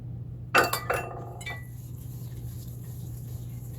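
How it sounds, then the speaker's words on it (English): A spoon clinks sharply against a bowl a few times while ingredients are mixed into melted butter for Starbucks-style banana bread, then a steady low hum lingers quietly. "I'm just gonna mix it into that melted butter a little bit."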